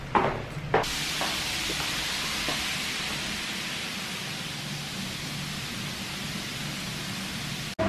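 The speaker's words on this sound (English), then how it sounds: "It's pouring with rain." Steady, dense broadband hiss of heavy rain pouring down, constant and enveloping for the whole stretch, with a few brief knocks at the start.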